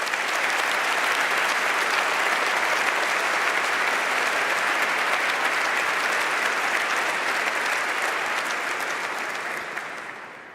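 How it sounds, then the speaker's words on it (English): A large audience in a basilica ceremony breaks into loud, sustained applause, a thick wash of clapping lasting about ten seconds before tapering off at the end. "And I think they also definitely deserve an applause"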